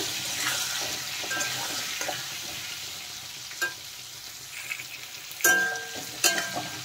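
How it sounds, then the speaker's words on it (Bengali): Potato and pointed gourd pieces frying with salt and turmeric in a pan, a soft steady sizzle broken by a few sharp scrapes and clinks of a spatula stirring, close and fairly quiet. "নুন আর হলুদ দিয়ে এখন ভালোভাবে ভেজে নেব"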